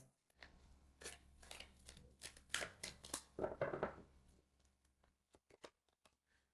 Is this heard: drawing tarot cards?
yes